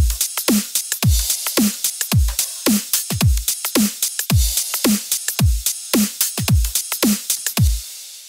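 A full drum mix with loops, EQ and ducking in a studio production session. Punchy kicks and snares drive a steady, funky groove, with bright percussion layered on top, loud and continuous without talk.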